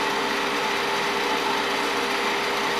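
A detailing gouge shaves a nub off a pocket mirror spinning on a wood lathe, producing a steady, hissing, broadband whir of cutting and motor noise, close and continuous with no talking.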